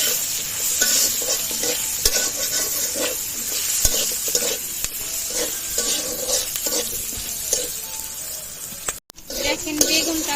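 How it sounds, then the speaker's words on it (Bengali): Eggplant pieces fry loudly in a pan with a dense, crackling sizzle, and stirring scrapes recur throughout before a short break near the end. "বেগুনটা ভালো করে ভেজে নেব।"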